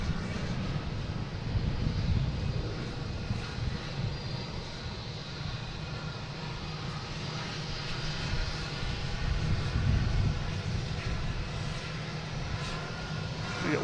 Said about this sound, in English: next taking off is a Cessna Citation, CJ3,